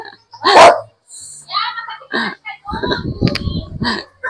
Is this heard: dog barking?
yes